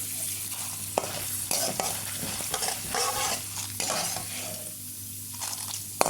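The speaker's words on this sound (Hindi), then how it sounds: "हम थोड़ा सा फ्राई करेंगे चने की दाल को और मिर्ची को।" Chana dal and chillies fry in a pan, a continuous close sizzle broken by repeated scraping and clinking as a spoon stirs them against the metal.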